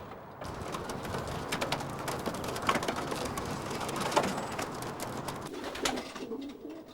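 Pigeons coo softly and intermittently outdoors on a gray, cloudy Dutch morning, the calls faint against a constant hiss of background noise.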